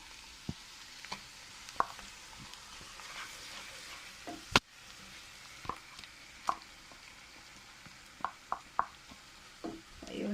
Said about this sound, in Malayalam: ഇളക്കാം. ഇതിലോട്ട് നമ്മൾ തയ്യാറാക്കി വെച്ചേക്കുന്ന ഫൈൻ പേസ്റ്റ് ഇടാം.